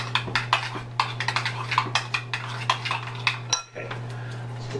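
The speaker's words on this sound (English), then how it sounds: "we're gonna give this one final little stir" A spoon stirs a prawn Provençal dish in a pan, giving a run of quick, light metallic clinks and scrapes over a steady low hum, with no voices.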